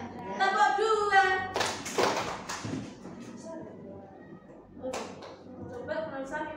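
A classroom of students clapping on cue during a lesson, a few sharp clap bursts standing out between stretches of a teacher's voice talking nearby.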